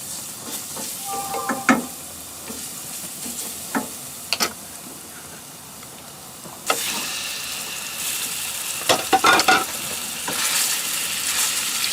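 Italian sausage and a little garlic frying in olive oil crackle and sizzle steadily, with spoon clicks and scrapes against the pot, and the hiss swells louder partway through as stirring continues, no voices.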